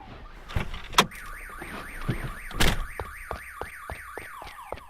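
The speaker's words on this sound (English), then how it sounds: "Looks like Baldy tried to break into that car over there and set off the alarm." A car alarm going off nearby, cycling through a rising-and-falling whoop and then a rapid repeating warble, loud and alone, with a few sharp knocks early on.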